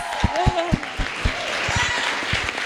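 Audience applause rises for Ilhan at a Somali community campaign event, a broad wash of clapping with sharp individual claps and a voice speaking over it near the start.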